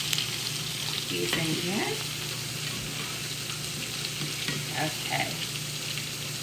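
Country fried potatoes crisping in a hot pan give a steady, close sizzle with scraping stir sounds partway through, and a few brief spoken words sit over the frying.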